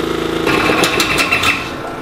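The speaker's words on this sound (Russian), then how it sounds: "С помощью данного стенда изучены рабочие процессы двигателя внутреннего сгорания типа Honda и Subaru" A Honda and Subaru type internal combustion engine running on a university test stand, chugging with a steady rapid pulse that shifts to a rougher, brighter roar partway through, fairly close and loud.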